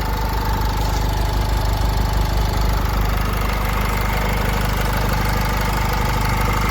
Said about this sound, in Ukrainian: Моторчик працює рівненько, як часики, обслугований по Швейцарії.